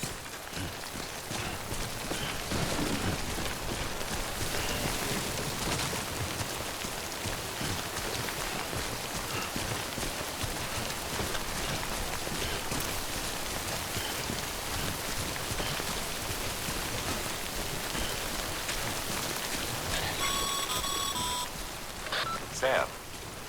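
Steady, dense timefall rain from the game Death Stranding hisses evenly across the whole stretch, with faint electronic beeps from in-game equipment near the end.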